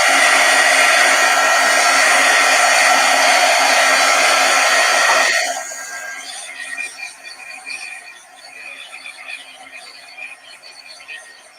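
A handheld dryer blows loudly and steadily over mixed media fall art, then switches off midway and leaves quieter rustling and handling noises.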